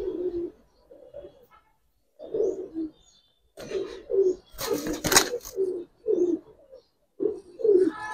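Giribaz and coloring highflyer pigeons coo in a series of short, soft, throaty bursts spaced across the stretch, close by, with a brief louder rustle midway that may be wing movement.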